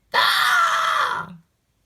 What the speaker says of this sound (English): jumped and screamed